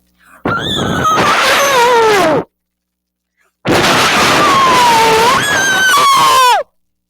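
A person loudly imitates a chimpanzee call in two long, shrieking bursts, rising and wavering, separated by a few seconds of silence.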